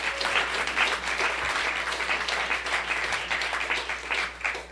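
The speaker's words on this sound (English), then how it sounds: "you can clap for that" Applause from the audience at a Michigan governor's budget signing press conference, a steady crowd of hands clapping with a bright, crisp texture, sustained and fairly close throughout with no speech over it.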